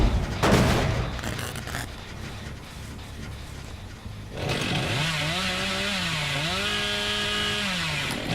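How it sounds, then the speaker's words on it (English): In Dead by Daylight, the Hillbilly's chainsaw rasps loudly at first, then, after a short lull, revs up into a sustained whining drone that rises and falls as it sprints. "Chainsaw sprint plus 31"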